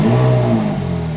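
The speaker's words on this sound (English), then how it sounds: "you have the engine start button on a steering wheel. So you just press the start." Ferrari 458 Italia V8 engine revs strongly in a short, loud, steady burst with no talking.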